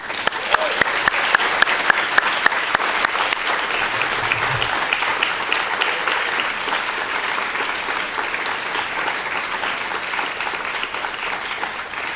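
Sustained audience applause fills an awards ceremony hall, a steady even patter of many hands clapping with a few louder claps near the start, continuing without a break.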